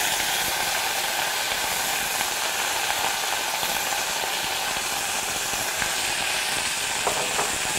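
Browned onion and moringa flour fry in a pot with a continuous, even sizzle and hiss, with no voices heard.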